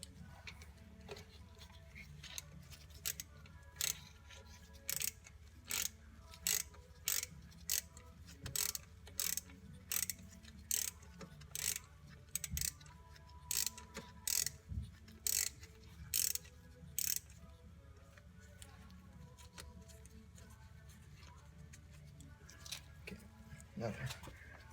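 A Torx screw being removed from the master cylinder of a 2000 Chevy Cavalier makes a long run of quick, quiet ratchet clicks in short rhythmic bursts, close up over a low background hum.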